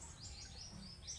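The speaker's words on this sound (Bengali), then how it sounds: "আরও অন্য অন্য পাখি ডাকাডাকি করছে।" Assorted birds call near a village pond, thin high chirps and tweets sounding faintly at a distance over quiet low background rumble.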